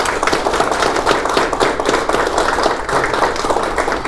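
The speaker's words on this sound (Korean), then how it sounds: "여러분 큰 박수로 축하 부탁드립니다." Steady audience applause at a Seoul MOU signing ceremony for redeveloping the Kwangwoon University Station logistics site, many people clapping loudly and continuously.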